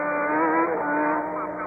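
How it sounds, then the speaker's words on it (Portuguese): A 1992 Benetton B192 Formula 1 car roars steadily at close range during the San Marino Grand Prix at Imola, its high engine note holding loud and even with a slight pitch shift. "O carro de Martin Brundle"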